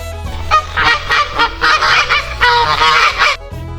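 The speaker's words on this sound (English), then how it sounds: "The goose honks loudly on the farm." A farm goose honks loudly in a rapid run of about a dozen harsh, nasal calls, close to the listener, with no other sound.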